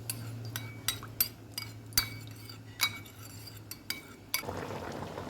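A metal spoon stirs a pinch of saffron in a little water in a small dish, giving a run of light, irregular clinks and scrapes against the dish over a low steady hum, with no talking.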